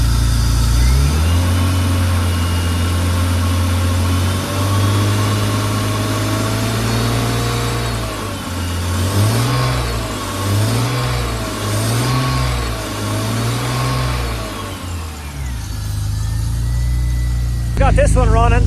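A BMW car engine runs after a jump start, a loud close idle that rises and falls through several revs before settling back, with talk over it at times.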